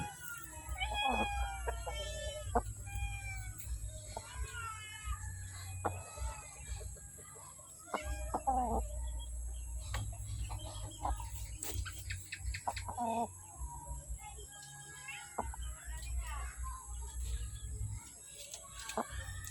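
Gamefowl rooster of the Tanaka Tsunami bloodline in a backyard, giving repeated clucks and short calls over about twenty seconds, fairly close, with low rumbling background noise and no speech.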